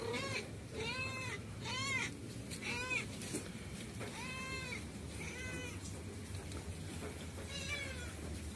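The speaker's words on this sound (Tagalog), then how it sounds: "Kaingay na pusa ere." Cat meowing insistently at home, a series of loud, close, drawn-out meows repeated at a steady pace over the whole stretch, with faint background noise and no talk.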